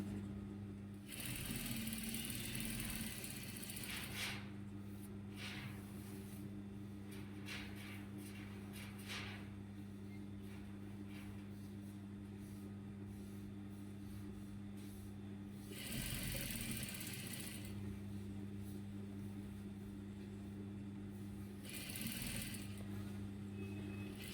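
A sewing machine stitches a bubu kaftan gown with a V-shaped neckline, humming steadily up close with brief pauses and louder stretches of running throughout.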